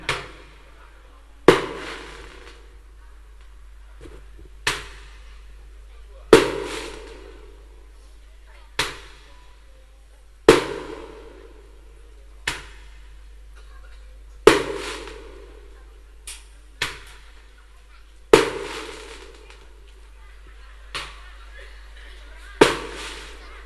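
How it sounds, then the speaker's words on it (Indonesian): Firecrackers go off outdoors at night during a religious lecture gathering, a string of sharp, loud bangs spaced a couple of seconds apart, each with a short echoing tail over quiet background. "tuh kan dipasangin petasan"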